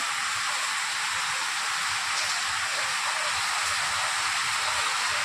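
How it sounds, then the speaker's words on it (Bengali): Steady, dense hiss of rain falling, even and unbroken throughout, with no voices. "শুরু হয়ে গেল বৃষ্টি"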